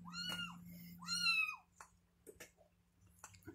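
A kitten cries twice in high, wavering meows over a steady low hum, followed by a few soft clicks and rustles.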